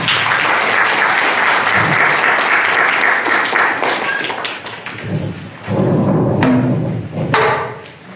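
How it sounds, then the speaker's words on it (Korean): Loud, dense applause from an audience at a memorial ceremony, steady and full for several seconds before tapering off, then swelling again briefly near the end. "우리 박수로 맞이해 주시기 바랍니다"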